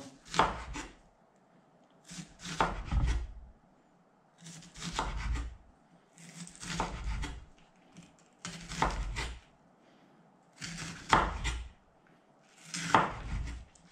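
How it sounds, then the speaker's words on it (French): A knife slices thin strips of meat on a cutting board for a wood pigeon burger, seven distinct bursts of rapid chopping strokes separated by short pauses, close and clear with no talk. "Je vais en couper quelques fines lamelles pour mettre sur ma viande."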